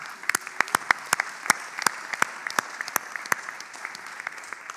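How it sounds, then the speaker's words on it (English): Applause for graduating postgraduate students at a hospitality school's winter graduation ceremony: a small audience claps in sharp, uneven bursts, near and fairly loud, with no talk over it. "let's give our postgraduate students a big round of applause"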